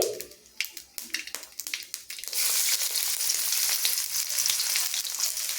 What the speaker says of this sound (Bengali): এবার তেলে দিয়ে দেব সামান্য পরিমাণ কালো সর্ষে ফোড়ন হিসাবে তো এরপর দিয়ে দেব এখানে রসুন কুচি